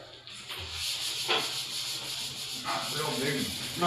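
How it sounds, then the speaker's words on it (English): Sanding along the panel lines of a car body: a steady close abrasive rubbing hiss with strokes rising and falling, partly under faint talk. "Sand out your areas that you know you got some problems with"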